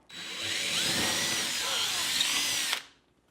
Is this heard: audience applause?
no